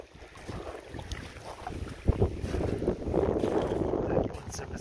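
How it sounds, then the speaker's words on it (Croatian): Wind gusting over a lake during a fishing trip, a rough, rumbling buffeting against the microphone that swells and strengthens toward the end, with faint water movement underneath. "Sad je vjetar malo počeo pirti."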